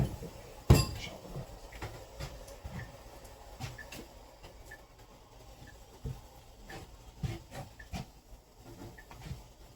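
Kitchen knife chopping on a board, one sharp loud knock followed by a steady series of quieter, fairly regular taps in a calm room.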